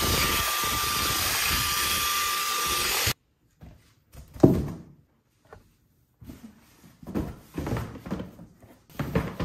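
A household vacuum cleaner runs loud and steady for about three seconds, then stops abruptly, followed by scattered rustling and handling noises of packing and tidying.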